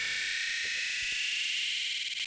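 A resampled riser sound effect, repitched higher, gives a bright, sustained hiss-like noise band across the whole short stretch, steady and fairly quiet, with faint low thumps underneath.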